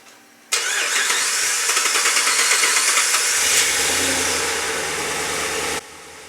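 A 2009 Ram truck engine cranks for a long stretch after its battery was disconnected, then catches and settles into a steady idle before cutting off, with no talk.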